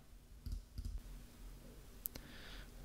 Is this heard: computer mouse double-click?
yes